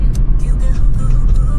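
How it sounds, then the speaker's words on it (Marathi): A car moving on the road, with a steady engine and road rumble heard from inside, close and constant, plus a few faint higher clicks and squeaks. "मामाच्या गावावर स्वतः गाडी चालवत घेऊन चालला"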